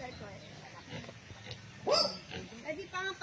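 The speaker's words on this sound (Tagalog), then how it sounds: "native na baboy? native. Ayan, mga native na baboy mga kapraps" Native pigs on a farm lot in Liliw, Laguna give a few short, close grunts, mixed in with people talking nearby.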